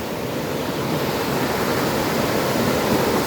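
Snowmelt water rushes loudly in a mountain stream beside a trail bridge near Mount Baker, a close, steady roar of white noise with no talk over it.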